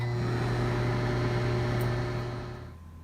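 A microwave oven runs steadily while heating a plate of cheesy nachos, giving a constant low hum with a faint fan whir. It continues evenly and then fades slightly near the end.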